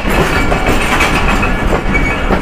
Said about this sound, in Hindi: यानी कि ये है लाहौर कराची के दरमियान चलने वाली 34 डाउन पार्क बिजनेस एक्सप्रेस।